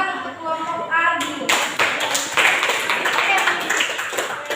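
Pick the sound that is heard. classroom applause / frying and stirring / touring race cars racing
classroom applause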